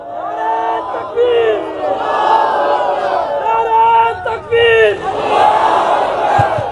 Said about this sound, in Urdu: زور سے نعرے کا جواب دو